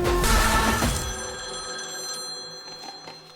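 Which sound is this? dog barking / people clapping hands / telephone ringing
telephone ringing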